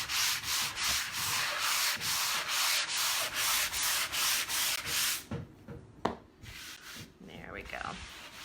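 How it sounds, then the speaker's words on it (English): Hand sanding a painted wooden sign board between coats, rhythmic close rubbing strokes in an even back-and-forth pattern, then stopping for softer handling sounds and a knock near the end. "Let's go ahead and sand this coat down."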